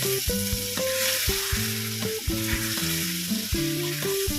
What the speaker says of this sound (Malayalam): അരപ്പെല്ലാം ഒന്ന് മൂത്ത് വരട്ടെ. ഇതിലേക്ക് കുറച്ച് വിനാഗിരി ഒഴിച്ചു, 1 ടേബിൾ സ്പൂൺ വിനാഗിരി.